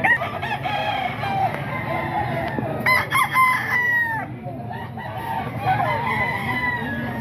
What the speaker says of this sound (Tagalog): Ito mga manok ni Boss Hapon mga kaidol